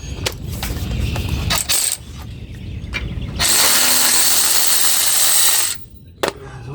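Caliper bracket bolts come off an early 1999 Ford F350 dually with an 18 mm wrench, heard as metallic clinks and tool rattles followed by a sustained harsh power-tool whir of a couple of seconds, all close by.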